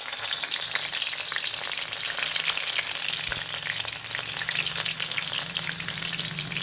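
Garlic fries in about three spoons of hot oil in a pan for vegetable noodles, giving a loud, dense, continuous sizzle with crackling pops close up, with no voices.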